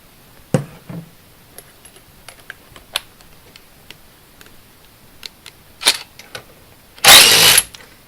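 A Dewalt cordless impact driver fires in one loud, dense hammering burst lasting under a second, after scattered light clicks and knocks from handling.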